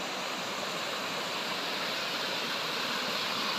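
Water pouring down a small waterfall, a loud, dense, continuous rushing roar heard close up with no voices.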